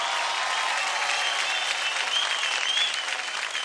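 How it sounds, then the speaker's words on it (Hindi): Loud, steady applause from a studio audience at a televised dance competition, cheering a dancer known for aerial acts, with dense continuous clapping filling the whole stretch and crowd noise underneath. "जोरदार तालियां मयूरेश के लिए."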